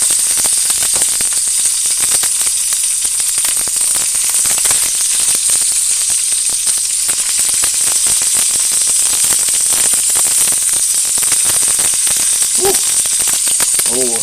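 Food frying in a pan over an open fire, a continuous loud hiss and crackle of sizzling oil running throughout without pause.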